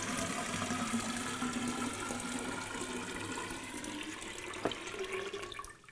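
Water pours steadily into a container for several seconds, a continuous splashing flow at moderate distance with a brief knock near the end before it stops.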